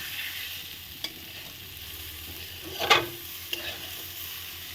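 Fish roe, rubbed with salt and turmeric, fries in oil with a steady low sizzle, broken by a few stirring scrapes and one louder clattering burst near the middle.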